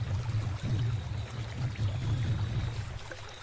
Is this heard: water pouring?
yes